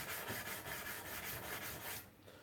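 A knife blade being hand sanded, moving from a grinder finish to a hand sanded finish, with steady rhythmic rasping strokes, close and continuous before easing off near the end.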